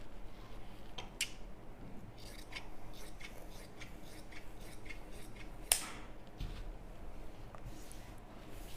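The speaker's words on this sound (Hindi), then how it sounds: "यहाँ से कपड़े को पलट के भी कटिंग कर सकते हैं, जहाँ पे निशान लगाया था इस तरह से पलट के और यहाँ से कटिंग कर लीजिए।" Scissors snipping through kurti dress fabric at a sewing table, a quiet run of soft repeated cuts and rubbing with a few sharper clicks, close and faint, no voices.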